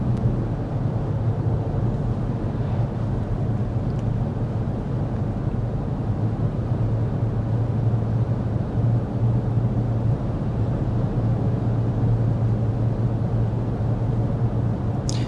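Cabin noise inside a 2026 Lexus NX 350h hybrid while driving with the fan on speed 1, a steady low road and engine hum with faint wind hiss, constant and even, no talking.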